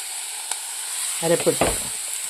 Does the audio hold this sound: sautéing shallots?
yes